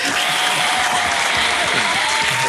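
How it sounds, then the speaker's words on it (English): Studio audience on a talk show breaking into steady, dense clapping that fills the room evenly at close range, with no voices over it. "Can I get a clap from the studio audience?"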